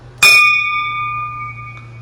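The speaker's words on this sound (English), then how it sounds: "ring the bell." A single bell is struck once, close and clear, and its bright metallic tone rings on and slowly fades over the next two seconds. A faint second tap comes near the end.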